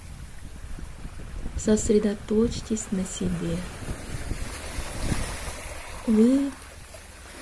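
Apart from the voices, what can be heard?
sound of sea waves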